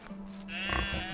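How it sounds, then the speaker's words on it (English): Sheep in the Medieval Dynasty game bleat once, a loud, drawn-out wavering call close by. It rises over a low steady background hum, with no talking. "sheep, because we like our wool. More sheep."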